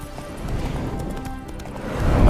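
Roach, the horse in The Witcher 3, gets spooked, with hoof clatter and a rising whinny building to a loud burst at the end over a steady ambient game rumble.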